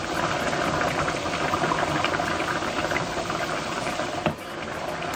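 Sauce fries and reduces in a pan over high heat for beef tongue stew, giving a steady, loud, dense sizzle and bubbling throughout with a brief sharp clatter near the end.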